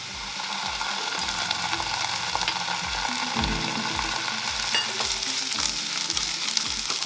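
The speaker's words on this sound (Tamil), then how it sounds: "இஞ்சி பூண்டு பச்சை வாசம் போகிற வரைக்கும் ஃப்ரை பண்ணிக்கோங்க" Ginger and garlic fry in a pan of browned onions, giving a steady loud sizzle with repeated low scraping knocks from a stirring spoon throughout.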